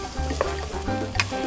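Potatoes go into a pot of machaca for caldillo and sizzle steadily while being stirred, with a scrape of the utensil now and then, close up and with no talking.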